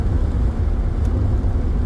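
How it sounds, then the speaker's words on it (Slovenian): The engine of an S-coupe car idles steadily after an oil change, a continuous low rumble close by with no voices over it. "Prav slišiš, koliko je mašina bolj srečna,"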